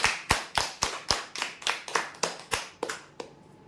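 About a dozen sharp claps in a steady, evenly spaced rhythm at a prize draw announcing winners, loud and close, ending with a brief fading tail.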